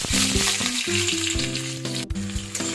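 Onion, a bay leaf and dried chilies sizzle in hot oil, a steady bright hiss running throughout while tonal background music plays over it.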